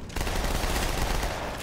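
Loud, dense burst of gunfire in a Halo game, starting abruptly after a brief lead-in and continuing steadily to the end without pause.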